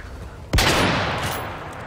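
A single loud gunshot in the video game Call of Duty, a sharp close blast after a quiet moment, followed by a long ringing echo that slowly fades.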